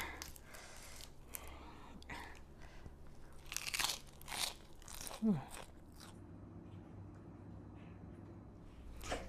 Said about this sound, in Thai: ใส่ขิงหอมๆจ้ะพี่น้องจ้า กับลูกโดด ผักสดกรอบดีขนาดจ้ะพี่น้องจ้ะ